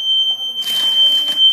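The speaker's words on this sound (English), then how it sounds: "Stupid alarm." A steady high-pitched alarm tone sounds loudly and continuously in a model home with a lanai and built-in spa, with shuffling noise beneath it.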